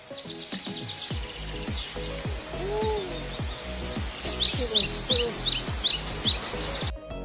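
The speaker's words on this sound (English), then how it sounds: "Releasing birds back into the wild." Rescued wild birds being released chirp and twitter close by, a dense run of quick repeated calls that grows into brighter, faster trills in the second half, with no talking.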